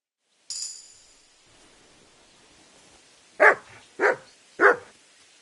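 Dog in the video game Kingdom Come: Deliverance II barks three times in a quick, evenly spaced run, loud and close, following a brief bright tone; no talking.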